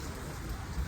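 Steady rain falls at an outdoor bikers' club anniversary event in Nashik, a continuous even patter with no voices over it.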